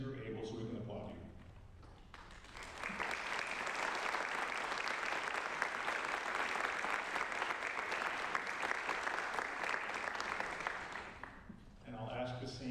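At a scholarship celebration, an audience breaks into loud, sustained applause welcoming new students, steady clapping lasting about nine seconds between stretches of a speaker's talk.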